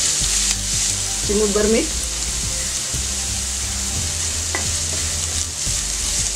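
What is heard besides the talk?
onion frying in oil in a pan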